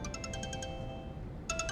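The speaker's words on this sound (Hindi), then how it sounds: "फोन बज रहा है।" A phone rings in short repeating electronic trills, a burst of quick pulses, a pause, then the ringing starts again, over steady low background noise.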